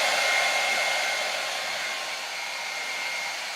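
An old, broken hair dryer on its hot setting blows onto wet artwork, giving a loud, steady, close airy whoosh that eases slightly in volume and plays alone.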